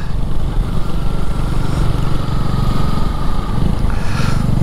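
A motorcycle engine drones steadily and loud throughout while riding up a hill-station road, with wind noise layered over the continuous low rumble.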